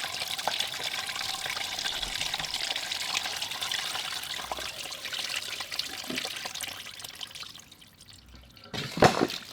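Salt water drains out of a flood-damaged McLaren P1 hypercar in a steady, close trickle and dribble, with a brief louder splash near the end.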